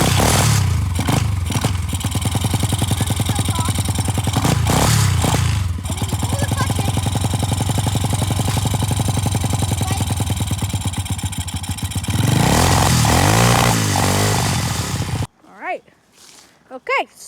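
A 125cc dirt bike engine idles and revs steadily nearby for about fifteen seconds, a continuous throbbing run with a rise in revs near the end before it cuts off, followed by brief talk.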